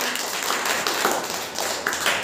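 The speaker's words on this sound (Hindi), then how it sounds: "इनके लिए भी ताली बजाइए।" A classroom of children clapping for a classmate in a lesson on odd and even numbers, a brief burst of quick, close applause lasting a couple of seconds with no talk over it.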